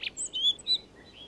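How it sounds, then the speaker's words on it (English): Rock thrushes singing on a mountainside in late August, a few thin, high chirps and short whistled phrases over quiet background, moderately near. "when the rock thrushes start to sing."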